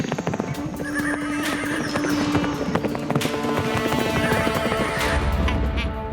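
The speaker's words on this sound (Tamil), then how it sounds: "அங்க பாருங்க குதிரைங்க." A herd of cartoon horses gallops in a dense rolling clatter of hooves, with loud repeated neighs and whinnies cutting through, running continuously and close.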